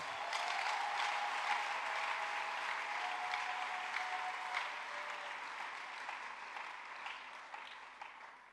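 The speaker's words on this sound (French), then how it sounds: "Est-ce que tu peux acclamer le Seigneur?" A church congregation applauds and cheers in praise of the Lord, a dense, sustained wash of clapping that holds steady for several seconds before gradually thinning toward the end.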